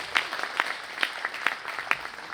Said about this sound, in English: A big round of applause to Samson Koletkar.